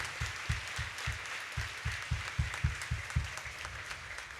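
A church congregation claps in dense, continuous applause, with a strong rhythmic beat of unison claps running through the steady crowd noise.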